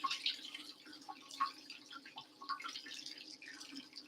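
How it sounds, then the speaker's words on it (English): Water from a gold sluice trickles and drips steadily at a quiet level, with small splashes scattered through the flow and no voices. "I'm about to shut this sluice down"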